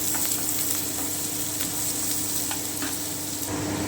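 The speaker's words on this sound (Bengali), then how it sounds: "এতে আমি প্রথমে একটু পেঁয়াজ দিয়ে দিচ্ছি। আমি একটু ফ্রাই করে নিচ্ছি" Onions frying in hot oil in a pan for chicken maharani, giving a steady, dense sizzle and crackle that runs the whole time at close range, with a few faint stirring ticks and no voices.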